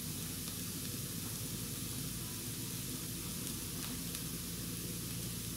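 Chili sauce sizzles steadily as it is added to a hot pan of vegetarian beef jerky being cooked, a continuous close frying hiss with faint stirring and no voices.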